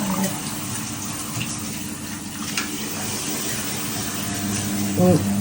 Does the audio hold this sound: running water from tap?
yes